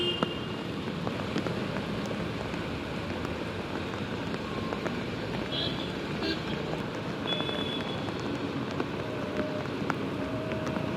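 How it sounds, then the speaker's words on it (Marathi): Heavy rain falls across Mumbai as a dense, continuous hiss of drops, with faint traffic-like rumble underneath and no clear voices. "संपूर्ण शहरात सध्या पावसाचा जोर कायम आहे।"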